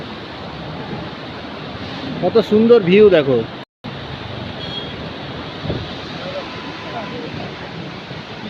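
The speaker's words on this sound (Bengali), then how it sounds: "এই ধাবার পাশ দিয়ে বয়ে চলেছে নদী, পুরো বরফ গলা জল" A river of white snowmelt water flows beside a roadside dhaba, giving a steady broadband rush mixed with wind buffeting the microphone, while a person talks briefly over it.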